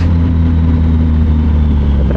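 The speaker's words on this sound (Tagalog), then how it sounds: "May traffic dito." Heavy road traffic rumbles close by, a loud, constant low engine drone from passing vehicles with no talking.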